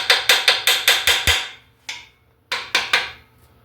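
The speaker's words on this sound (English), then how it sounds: "tap these out because they fit down in the register of this crank pretty tight" Sharp metallic hammer taps on bolts seated in a Ford 2.3 turbo crankshaft register, a quick run of seven evenly spaced strikes, a pause, then one more and a final cluster of three, close and crisp.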